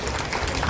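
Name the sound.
audience applause at a temple cultural event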